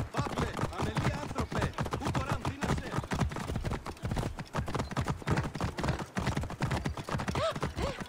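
Horse hooves clip-clop at a steady, quick rhythm in Assassin's Creed Origins, loud and close throughout, continuous with no pauses.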